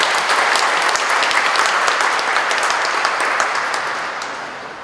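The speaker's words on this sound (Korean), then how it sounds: "큰 박수 부탁드리겠습니다." An audience at a startup park vision declaration and agreement signing ceremony applauds in sustained, dense clapping that holds steady, then tapers slightly at the end, with no talk over it.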